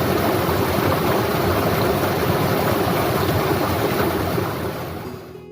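A waterfall roars with a dense, steady rush of water, loud and close, holding constant before easing slightly at the end; known locally as the drum waterfall.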